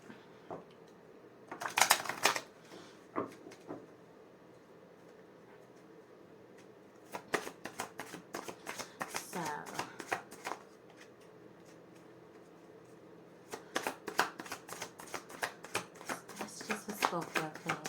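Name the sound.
shuffling oracle cards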